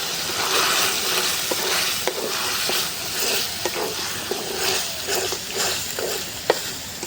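Masoor lentils being stirred into hot spiced oil, a dense close sizzle with sharp spoon scrapes and taps against the pan, no voices.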